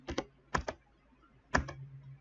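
Computer keyboard typing while a short name is entered in a game-level editor: three quick bursts of two or three crisp keystrokes each, close and clear, with brief pauses between and no talking.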